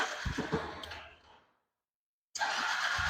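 A Honda Factor 150 motorcycle with a faulty hybrid sensor cranks and briefly catches without settling into a run, a short close burst of engine noise that cuts to silence and then resumes.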